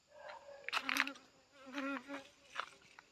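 Honeybees buzz around dahlia flowers in a garden, several short, soft droning passes rising and fading as individual bees fly near.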